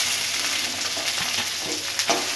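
Ginger, green chilli and onion frying in oil for aval upma, a steady close sizzle with faint stirring scrapes and a couple of brief clicks near the end, no voices.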